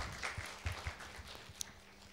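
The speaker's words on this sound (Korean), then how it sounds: "예, 박수 주시죠." Audience applause at a Korean public administration seminar session, a short, faint patter of scattered hand claps from a modest crowd, somewhat distant and uneven, fading over about two seconds.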